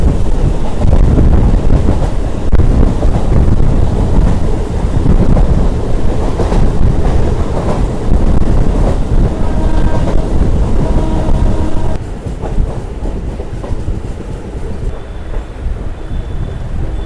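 Train passing at speed through a station between Ranaghat and Santipur, a loud sustained rushing rumble with heavy wind buffeting on the microphone that eases slightly toward the end.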